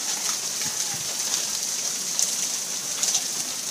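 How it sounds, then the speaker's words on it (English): Hail pelting down on cars and a roof during a hailstorm in Methuen, Massachusetts, a steady dense patter with sharper clusters of hits, fairly close and loud, with no talking. "Look at all the hail."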